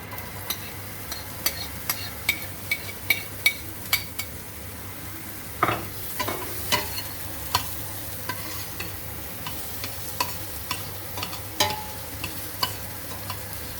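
Onions frying in melted butter in a pan for fried rice, with a steady low sizzle broken by regular, crisp spatula taps and scrapes throughout, close up and with no voices.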